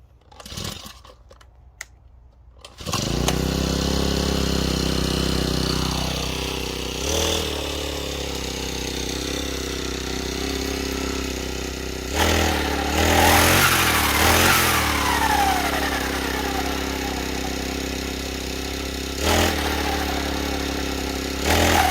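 A small engine on a multi-tool brush cutter with a blower attachment is pulled to start after a few rattles, then runs loudly at a steady idle, with occasional short revs, close up and without talk.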